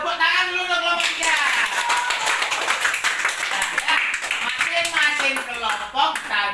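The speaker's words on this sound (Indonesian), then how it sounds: "Tepuk tangan dulu untuk kelompok 3." A class of students claps hands for a group presentation in a classroom, steady dense clapping running the whole time with a teacher's voice and chatter mixed in.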